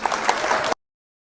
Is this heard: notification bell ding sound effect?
no